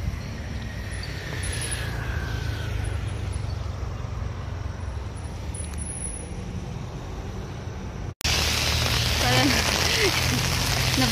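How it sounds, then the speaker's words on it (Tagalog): Heavy rain pours down at Camp John Hay, Baguio, Philippines, in a steady, dense hiss that continues without a break, loud and close all around. "Bumuhos na po yung malakas na ulan."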